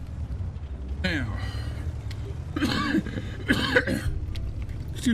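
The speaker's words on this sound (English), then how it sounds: "Excuse me, sorry for the cough" Two or three harsh coughs break out over a low background rumble, fairly close, with some throat clearing between them.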